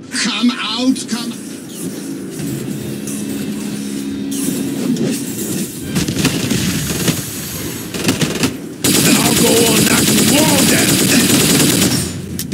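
Video game gunfire rattles in rapid bursts through a busy, loud battle mix. Voices speak over it, and a harsh, sustained roar takes over near the end.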